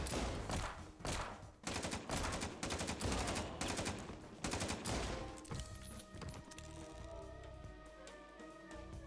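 Revolver gunfire in the video game Final Fantasy XII cracks out in a loud, rapid string of shots, then thins into a ringing, echoing tail with scattered lighter reports.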